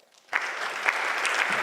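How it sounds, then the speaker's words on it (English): Warm applause from the audience at an xTEF event in Berlin, starting abruptly after a quiet moment and continuing as a steady, dense patter of many hands, fairly close and even in loudness. "So please join me in giving a warm applause for Raffaele."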